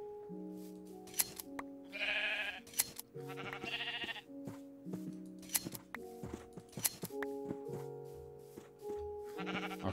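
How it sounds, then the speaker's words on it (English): Blocky sheep in the Minecraft video game bleat several times in short bursts, rising clearly over steady background game music with chime-like notes. "Found more sheep, though."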